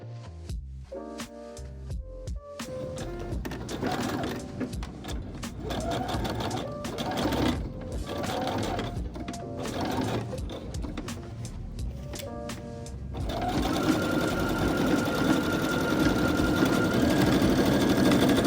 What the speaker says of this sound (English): Sew the shoulder seams of the front facing to the back facing.